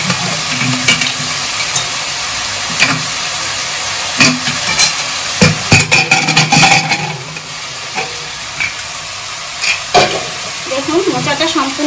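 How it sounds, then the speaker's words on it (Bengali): Potatoes fry in a pan over a spice tempering, a loud continuous sizzle broken by repeated clatters and scrapes of stirring, with a few faint knocks near the end. "এবার আমি আলুগুলো দিয়ে দেবো"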